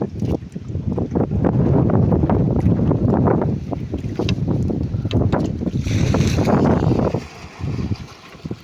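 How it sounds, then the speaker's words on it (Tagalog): Waves slap and splash against a small boat at sea, with irregular sloshing hits under heavy wind buffeting the microphone, loud and close throughout. "Kagulat yung alon."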